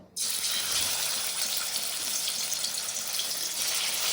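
Pieces frying in hot oil give a steady, loud hiss and sizzle that starts abruptly and keeps going without a break, with no voices over it.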